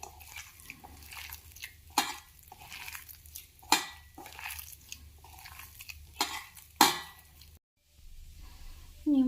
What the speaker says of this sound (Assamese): ইয়াতে মই কাটি থোৱা পিঁয়াজ আৰু জলকীয়া মিক্স কৰি দিম আৰু সকলোবোৰ ধুনীয়াকৈ সানি ল'ম